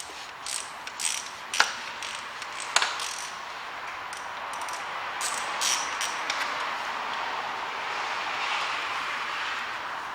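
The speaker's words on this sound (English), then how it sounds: "How's that ratchet, please? The socket to run it. Size 13 here." A ratchet fitted with a 13 mm socket works on the engine of a 1993 Mitsubishi Pajero, giving rapid clicking strokes close by over a steady background hiss, with a few sharper metallic knocks.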